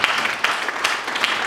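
Short burst of audience clapping at a Toastmasters club meeting, a moderate, even patter of many hands without any voices.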